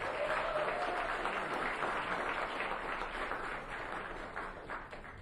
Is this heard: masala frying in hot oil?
no